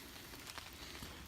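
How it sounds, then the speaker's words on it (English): Light drizzle patters steadily on a tent at a woodland campsite after a long rainstorm, a soft, even wash of small drops close by with a few slightly louder taps, and no one talking. "See how wet this is, because it's still kind of drizzling"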